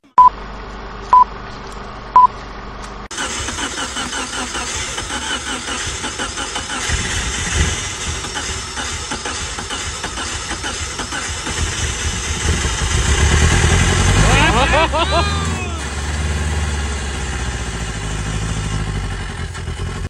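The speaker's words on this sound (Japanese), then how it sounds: "いよいよエンジンを始動するよ。" An 80s Mitsubishi Delica engine, freshly fitted with a new external fuel pump, starts after three short beeps and then idles steadily and loudly up close for about seventeen seconds, swelling briefly partway through.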